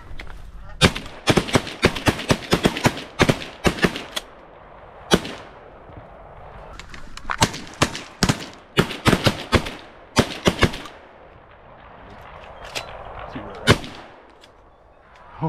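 Shotgun blasts ring out during a goose hunt, sharp loud shots in quick clusters, some nearly overlapping, separated by short pauses, with voices talking between volleys.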